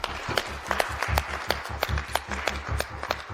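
Applause for a contestant at a staged competition, a short run of scattered, fairly close hand claps with a steady rhythm over a busy background.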